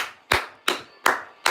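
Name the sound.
hands clapping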